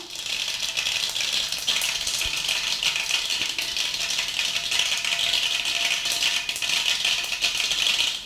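Mustard seeds spluttering in hot oil while making Nellai-style fish kuzhambu, a dense, continuous crackle and sizzle that stays steady and close throughout.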